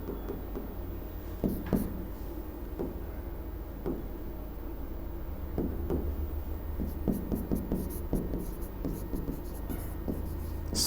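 Pen or chalk writing by hand while a Hindi poetry lesson on rasa is explained, steady scratchy strokes with brief taps, continuing close and moderately loud over a low background hum, no talking.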